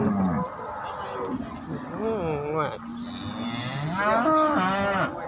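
At a Thai livestock market, cattle give several long, loud, wavering moos in a row, close by, and overlapping calls fill the whole stretch.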